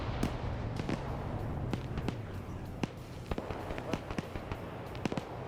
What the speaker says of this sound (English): an RPG gunner finally came around and finished the tank off